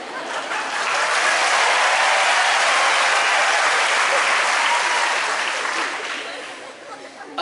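A large audience at an engineering college induction programme in Pandharpur breaks into loud, sustained applause, a dense wash of clapping that holds steady for several seconds before easing slightly near the end.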